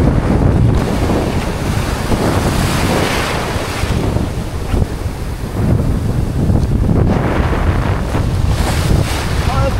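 Strong wind roars continuously across the microphone at sea while casting a popper lure, with surging water and waves beneath it, loud and steady throughout.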